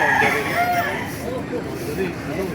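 A rooster crows among chickens at a live poultry market in Baliuag, Bulacan, with clucking fowl nearby under someone talking and background market babble.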